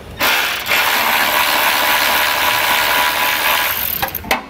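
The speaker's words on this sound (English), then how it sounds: "I have this 90 degree impact here, but we'll get these taken down" A 90 degree impact wrench with a 10 millimeter socket removes bolts on a 2022 Subaru during a hidden trailer hitch installation, running as a loud continuous close buzzing rattle for nearly four seconds, then a few short clicks.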